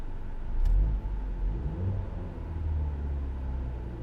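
Car engine revving while hooked up to a diagnostic scan tool, a close, low rumble that swells into a rev early on, then settles into a steady idle-like drone.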